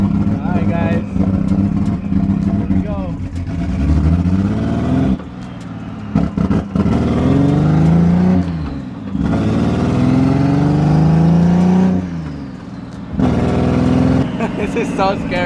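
A turbo BMW E46 M3 drift car revs hard on the street, repeated rising and falling engine sweeps that are loud and close, with brief gaps between pulls and people talking over it.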